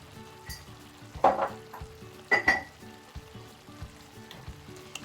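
Pork stir-fried with curry paste and sugar sizzles in a pan while a utensil stirs it, with a steady frying hiss and a few louder scraping clatters.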